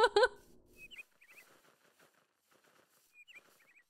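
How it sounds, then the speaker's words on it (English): Chirpy birdsong from birds in a Minecraft Twilight Forest canopy tree area, two short bursts of high twittering calls, soft and somewhat distant, following a brief loud thump at the start. "Oh, birds!"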